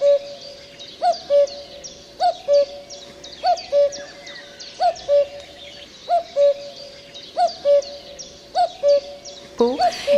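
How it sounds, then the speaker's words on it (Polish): A male common cuckoo calls its two-note cuckoo song over and over at a steady pace, about once a second, clear and fairly close against a quiet outdoor background. "Wszystkie dzieci je znają, bo to jest właśnie to słynne kuku"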